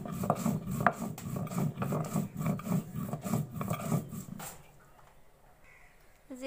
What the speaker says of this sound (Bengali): এখন লাউটা রান্না করার জন্য পেঁয়াজ আর জিরা বেটে নিব পাটায়